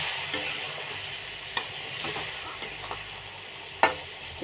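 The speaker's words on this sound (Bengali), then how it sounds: "ভালো করে একটু নেড়ে নিলাম" Magur fish curry with radish and a little added water being stirred in a pan, a steady soft sizzle with a few scattered scraping clicks of the spoon against the pan, no voices.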